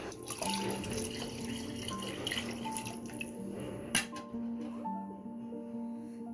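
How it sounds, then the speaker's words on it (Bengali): Water runs into a pot of broken rice for khuder bhat in a continuous moderate pour, with a sharp clink of the pot partway through, recorded indoors with a faint background hum. "এখানে এখন আমি পানিটা দেব ঠিক এই তিন পর সমান"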